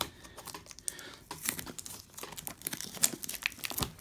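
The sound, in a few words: tearing plastic wrap off a Yu-Gi-Oh card box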